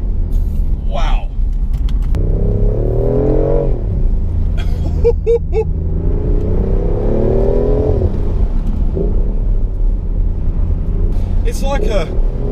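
A BMW i8 Roadster drives a winding country road, its engine humming loud and close with rising and falling revs as it accelerates; a person talks over the drive.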